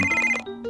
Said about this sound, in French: Oh, Bob, ton téléphone sonne.